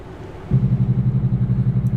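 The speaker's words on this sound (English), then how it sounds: "let's hit the engine brake, the Jake brake" Truck engine brake in American Truck Simulator cuts in partway through, a loud, rapid, rhythmic low chatter replacing a softer engine hum and pulsing steadily to the end.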